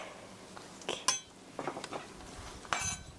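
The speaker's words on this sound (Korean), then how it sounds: "마늘 3쪽은 칼을 얹으시고요. 체중을 실어서 꼭 눌러주세요." A kitchen knife blade pressed down hard on three garlic cloves while making stir-fried soybean paste, giving a couple of sharp clinking, crunchy knocks against a quiet background.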